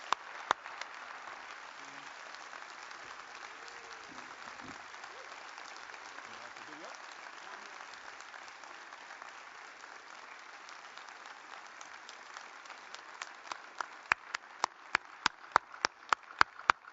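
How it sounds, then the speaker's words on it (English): Applause from a graduation audience for a retiring professor, heard as a faint, distant wash of clapping that lasts throughout, with sharper, louder claps picking up in a steady rhythm near the end. "Please join me in a round of applause for Professor Shapiro to acknowledge his great service."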